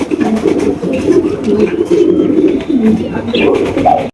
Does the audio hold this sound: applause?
no